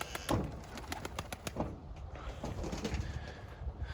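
Young Takla tumbler pigeons with newly completed wings, soft low cooing and fluttering nearby amid rustling, at moderate volume with a few sharper flaps early on.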